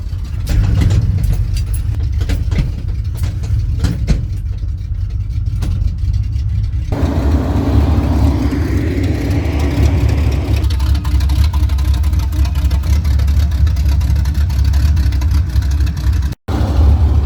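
A truck engine runs steadily and loudly, powering a PTO winch that pulls a Suburban forward, with a constant mid-pitched drone and a brief cutout near the end.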